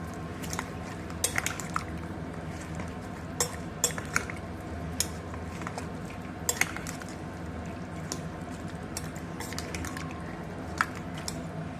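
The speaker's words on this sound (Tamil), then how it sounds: "இது கொஞ்சம் கலரி விட்டுக்கோங்க" An onion mixture stirred in a pressure cooker, a steady run of metallic scrapes and clinks of a spoon against the pot over a wet, squishy base.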